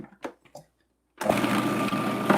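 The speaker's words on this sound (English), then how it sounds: "since my food processor is out, I'm using my food processor" A kitchen food processor whirs up suddenly after a few brief knocks and a pause, then runs loud and steady nearby while blending filling for vegan chorizo empanadas.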